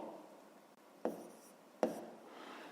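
Pen writing an answer in a fifth-grade maths exercise, a faint continuous scratching close by with two brief sharper taps.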